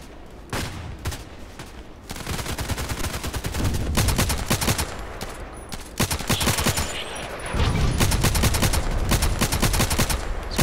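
Rapid bursts of automatic gunfire from the Contract Wars online shooter, loud and nearly continuous, with dense rattling volleys and brief pauses between strings of shots.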